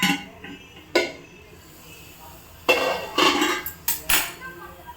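A metal idiyappam steamer holding maize idiyappam is opened, giving a sharp metallic clank followed by several quick clinks and knocks of the lid and utensils, close and fairly loud against a quiet kitchen background.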